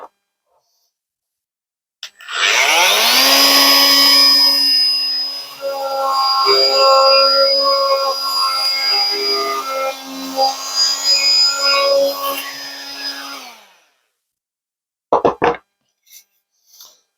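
A wood router trimming the edge of a wooden glass holder whines at a steady high pitch for about eleven seconds, loud and close, then stops, followed by a few brief knocks.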